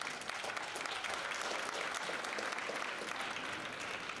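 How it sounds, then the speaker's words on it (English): A crowd at a winter band festival applauds steadily for the president of a women's organization, a uniform, fairly quiet wash of clapping with no breaks. "let's give him a round of applause."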